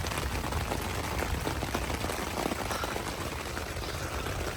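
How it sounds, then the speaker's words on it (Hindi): Heavy rain drums steadily and loudly on a tent during a night thunderstorm, a dense continuous patter with no pauses. "बड़ी शदीद बारिश हो रही है"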